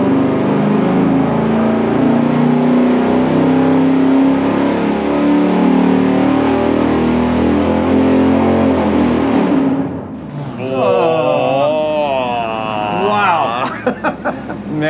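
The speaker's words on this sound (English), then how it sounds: "that is such a lazy engine" A car engine drones steadily at high revs on a dyno for several seconds, then cuts off, followed by a short stretch of nearby talking.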